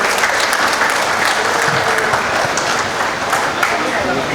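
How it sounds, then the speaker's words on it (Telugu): An audience claps at a function in Kurnool, a thick, continuous roar of many hands that stays loud and close for the whole stretch, with a murmur of voices mixed into the crowd. "క్లాప్స్."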